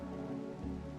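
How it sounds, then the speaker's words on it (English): Heavy downpour in RimWorld, a steady dense hiss of rain over a low humming bed, constant and unbroken for the whole moment. "it's pouring down rain"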